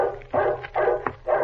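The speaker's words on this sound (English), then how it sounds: "The dog is barking." A dog barks in a radio drama: several sharp barks and yips in an uneven rhythm, fairly close and moderately loud, with short quiet gaps between them.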